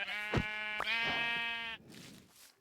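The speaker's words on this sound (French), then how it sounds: "Petit mouton, viens là, donne-moi ta laine." Blocky sheep in a hardcore Minecraft survival game bleat in a few close, clear calls, one drawn-out harmonic bleat in the middle, with quieter game ambience trailing after.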